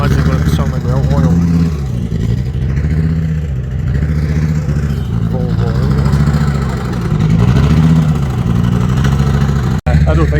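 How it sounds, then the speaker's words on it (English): A banger race car engine running dry with no oil, revving rough and uneven with a rhythmic clattering pulse, loud and close, with a brief cut near the end. "I don't think there's a drop of oil in that engine, it just does not sound too good."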